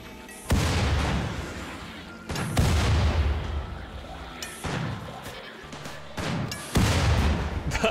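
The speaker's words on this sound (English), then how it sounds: "Our first uranium slug turret hit." Uranium slug turret in the RimWorld video game firing four heavy, booming shots at roughly two-second intervals, each a loud broadband blast with a sustained rumbling tail that fills the gaps between shots.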